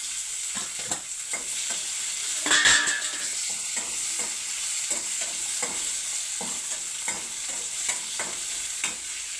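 Tomatoes frying in a pan for a curry are stirred with a utensil, steady close sizzling under repeated soft scraping strokes, with one brief louder clatter near the start.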